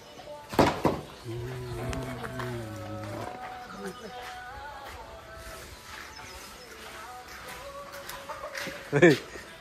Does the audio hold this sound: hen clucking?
yes